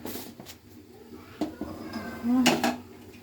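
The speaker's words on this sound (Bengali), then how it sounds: "আমি এবার এটা প্রেশার কুকারটা চাপা দিয়ে নিচ্ছি" A metal lid clatters and scrapes onto a pressure cooker, with a few sharp clanks close by and a short ringing scrape near the end.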